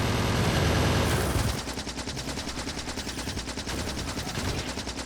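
Turrets in Factorio fire rapid, evenly spaced bursts at enemy creatures, a dense mechanical rattle that follows a louder wash of noise at the start and keeps going steadily without pause.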